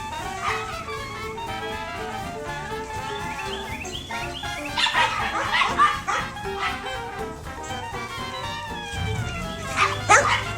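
Maxwell, a pet dog, keeps up a running quarrel with the neighbor's dog through shrill whining yips and bursts of sharp barking, close and loud, rising in clusters and easing off between them.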